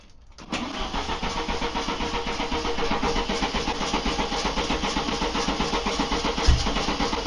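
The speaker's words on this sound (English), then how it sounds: "The engine's turning over." A trike engine catches after a brief crank and settles into a steady, loud running rhythm with regular pulses, close by and heard alone with no talking.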